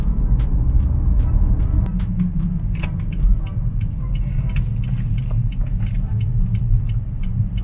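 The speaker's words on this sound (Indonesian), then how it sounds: "suara mesinnya tuh ya smooth gitu, kayak ya mesin-mesin besar lah" A steady, smooth four-cylinder engine hum heard from inside the cabin of a Lexus RX270 SUV, low and continuous, with faint ticks and light rumble over it.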